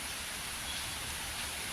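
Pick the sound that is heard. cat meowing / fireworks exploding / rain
rain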